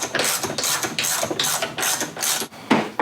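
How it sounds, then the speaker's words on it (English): A socket wrench loosens a bolt on a reel mower's cutting unit, giving rapid rhythmic ratcheting clicks in about six close, even bursts with no talk. "We're gonna speed this up a bit and actually use a socket wrench."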